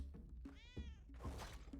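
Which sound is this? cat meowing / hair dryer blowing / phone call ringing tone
cat meowing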